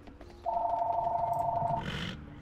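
A telephone rings in a steady electronic trill for over a second, loud and close, then cuts off into a brief noisy burst; no one speaks over it.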